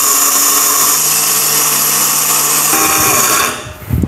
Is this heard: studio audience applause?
no